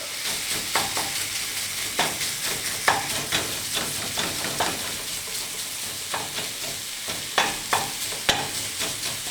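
Sweet Italian sausage meat sizzles in a pan as a spoon repeatedly breaks it up, giving a soft continuous fry with regular scraping, clacking stirs close by and no talking.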